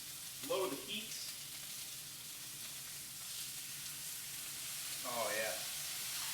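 Food sears in a frying pan with a continuous broad sizzling hiss, steady and fairly close, while a person speaks briefly at the start and again near the end.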